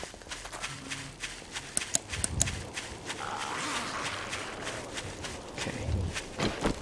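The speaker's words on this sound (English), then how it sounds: "Okay, I'm hearing footsteps." Quiet footsteps in the survival video game 7 Days to Die, a loose, irregular patter of soft steps over a dull background hum.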